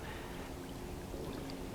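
A small woodland creek spills down a little drop past low overhanging bushes, giving a steady close hiss and wash of flowing water with no breaks and no other sounds.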